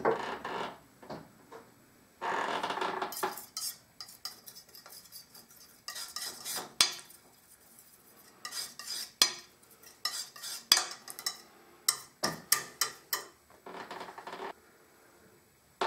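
Oil paint colours are mixed on a palette with a knife or brush: bursts of scraping and tapping, then a run of quick sharp clicks, close and without talk.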